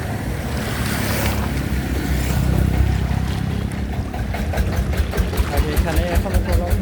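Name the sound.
trawler boats at a river ghat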